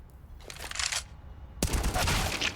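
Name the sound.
gunshots in video game Counter-Strike: Global Offensive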